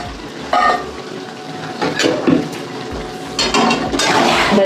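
Pea greens cooked in fish oil are stirred in a pan with homemade ground spices of cumin, coriander, dry chilli and bay leaf, giving intermittent scraping and clinking bursts with a soft sizzle in between, close and moderately loud, with no talking.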